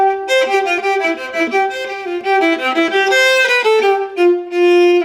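Solo viola playing a fast slurred passage, a quick unbroken run of bowed notes that ripple up and down at close range, loud and clear with no talking.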